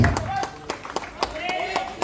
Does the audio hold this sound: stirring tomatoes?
no